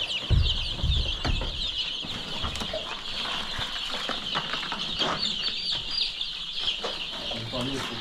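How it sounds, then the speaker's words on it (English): Chickens on a farm cluck and chatter continuously at moderate distance, with occasional wing flaps and people talking in the background. "You can just hear the birds"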